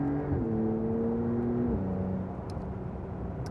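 A Porsche 992 Carrera S with PDK gearbox drones steadily from inside the cabin, its engine pitch stepping down twice as gears are thrown down on a winding road, a continuous loud hum with no talk.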